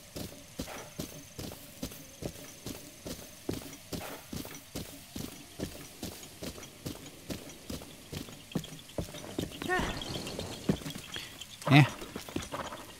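Steady, evenly spaced horse hooves clip-clop through Breath of the Wild, a rhythmic gallop that runs for most of the stretch, then gives way to a brief burst of brighter clatter and one sharp louder hit near the end, with a voice talking lightly over it.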